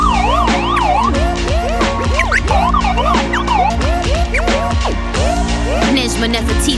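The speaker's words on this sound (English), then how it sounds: "You hear the sirens?" A police siren effect wails through a rap song, rising and falling tones cycling over a heavy beat and bass, loud and prominent throughout.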